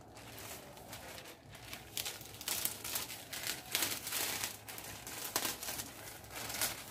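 Colored tissue paper being peeled away from a taped kite cutting template, a continuous crinkling and tearing rustle, close and fairly quiet, with no talking.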